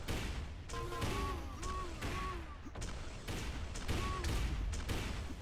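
Machine gun and rocket fire in a fast online arena video game duel, with rapid continuous gunfire and heavy blasts under a commentator's steady talk.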